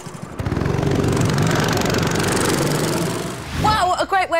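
A small engine on a modified, lightened motorized snow sports vehicle drones steadily at close range, then a voice briefly cuts in over it near the end.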